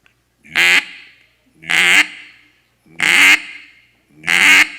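Four loud, evenly spaced single quacks are blown on a handheld duck call, each a short raspy burst followed by silence, imitating a basic mallard hen quack.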